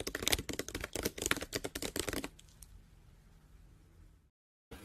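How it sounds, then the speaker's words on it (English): Rapid clattering keystrokes on a computer keyboard, loud and close, fill the first two seconds, then stop abruptly and leave a faint room hum before brief silence. "He is typing, honey."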